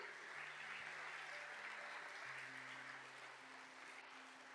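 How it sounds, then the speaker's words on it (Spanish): Church congregation claps steadily and fairly quietly, an even wash of applause with sustained organ or keyboard tones held underneath. "Dele un fuerte aplauso a Jesús."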